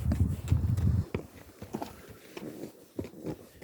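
Hooves of a Karachay breed horse walk along a rocky trail, giving close, uneven clip-clop strikes against stone, with a rumbling scrape at the start.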